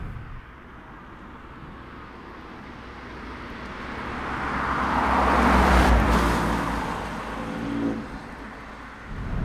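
A Porsche 911's exhaust picked up close at the tailpipe, a steady low drone that swells to a louder peak midway as the engine builds, then eases back with a brief second rise near the end.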